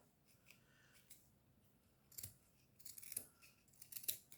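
Snips of scissors cutting jute and lace craft material for a Christmas decoration, quiet at first then a run of sharper, close clips in irregular bursts toward the end, no talking.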